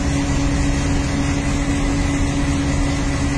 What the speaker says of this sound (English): There's a compressor kick on. I see the AC pressure climbing.